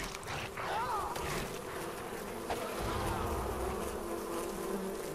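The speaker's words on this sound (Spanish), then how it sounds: "Nunca me aparto lo bastante para que las abejas no me afecten." Bees buzz continuously in the prehistoric survival game Far Cry Primal, a steady, close insect drone filling the whole stretch at moderate volume.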